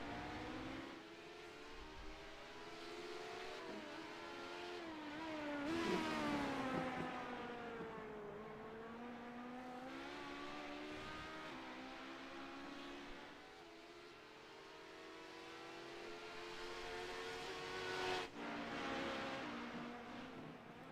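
Legacy Series sports cars on the Auto Club circuit, engines swelling and falling in pitch as they brake into a chicane and accelerate out, a steady, fairly distant roar with no talk.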